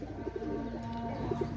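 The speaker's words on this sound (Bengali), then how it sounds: "এই জোড়া কেটিএম টেডি মাস্টার পেয়ার, আপনারা স্ট্যান্ডিংটা দেখেন, অনেক সুন্দর কবুতর।" A pair of KTM Teddy Master pigeons coo softly and steadily, a low rolling murmur repeating close by against a faint background hum with no talking.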